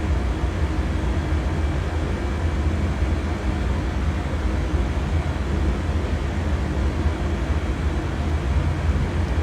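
Cabin drone of an MD-88 jet cruising in a flight simulator on an Orlando to Miami flight, a steady low rumbling hum that stays even and continuous throughout.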